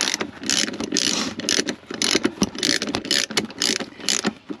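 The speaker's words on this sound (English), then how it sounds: "Now to get these front off, I use a spark plug socket." A ratchet fitted with a spark plug socket works the front seat bolts out of a Chevrolet Suburban, giving quick, loud clicking bursts in repeated close strokes with short pauses between them.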